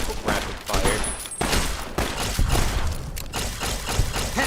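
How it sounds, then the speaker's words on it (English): Rapid gunfire in Fallout: New Vegas, a loud continuous volley of fast shots with heavy thuds, a voice faintly audible beneath. "Rapid fire."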